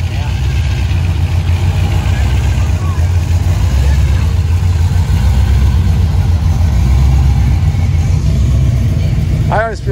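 A loud car engine at an outdoor auto show park entrance, a deep continuous rumbling idle close by with a brief higher whine near the end.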